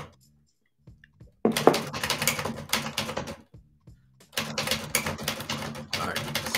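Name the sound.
typewriter typing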